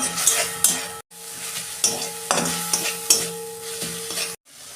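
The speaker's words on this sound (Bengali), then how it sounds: "এই মশলাটা ভালো করে আমি কষাবো" Spice masala for ghugni being stirred and sautéed in a pan, steady sizzling frying under repeated scraping and clanking spoon strokes against the metal, close and moderately loud, cut by brief silent gaps.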